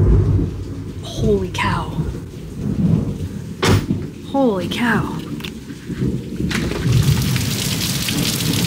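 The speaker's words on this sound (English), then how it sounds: "hear the thunder?" Thunder rumbles and cracks over steady pouring rain outside a wet Jeep, with loud bursts rising above the constant downpour while a person exclaims in between.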